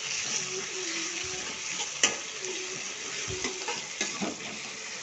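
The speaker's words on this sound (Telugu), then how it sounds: "అది వేస్తున్నాను 1 స్పూను. వేసిన 1 స్పూన్ బాగా ఫ్రై చేసుకోవాలి." Ginger-garlic paste sizzles and crackles in hot oil for a cauliflower gravy, with a steady frying hiss, scraping stirs and a sharp clink near the middle, and no talking.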